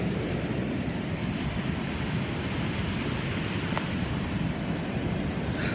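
Powerful sea surf rolling onto a deserted beach, a steady dense roar of breaking waves with wind buffeting the microphone throughout, no voices.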